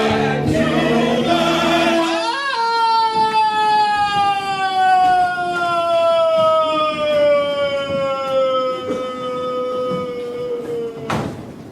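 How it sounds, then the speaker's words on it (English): Stage sirens from the Urinetown musical rise and wail in long sliding tones, loud and sustained after a burst of other sound, filling the theater with no speech over them. "All night the sirens and screams."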